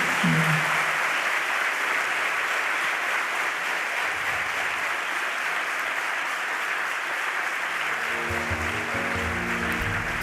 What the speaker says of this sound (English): Let us give a big round of applause to our guest speaker